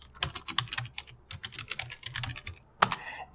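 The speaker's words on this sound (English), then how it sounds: "And I'm going to type in here shares outstanding." Someone types on a computer keyboard in a spreadsheet, a close, quiet flurry of rapid key clicks with brief pauses, ending in a couple of sharper keystrokes.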